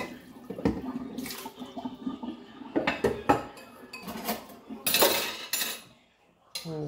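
Bowls and plates being washed by hand at a home sink, with repeated clinks and clatters of dishware against each other amid splashing, running water in close, uneven bursts and brief pauses.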